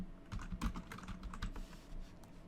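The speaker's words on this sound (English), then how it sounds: "Let's just keep typing." Rapid clattering keystrokes on a computer keyboard, close and moderately quiet, in short irregular bursts with no speech.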